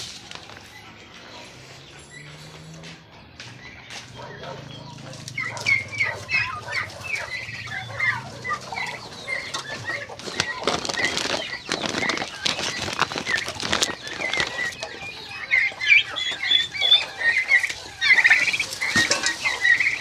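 Two-month-old turkeys peck and scratch at feed with soft, busy pattering and scattered rustles, growing denser over time, with occasional faint chirps.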